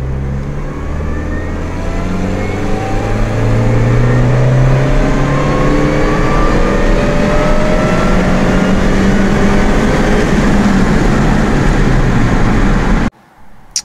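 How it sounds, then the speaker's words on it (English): A Mini Cooper S R53 accelerates hard through a third gear pull, its engine note loud, close and steadily rising in pitch for about thirteen seconds before cutting off abruptly. "here's a third gear pull"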